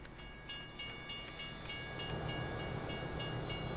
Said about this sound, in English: I see the trains coming.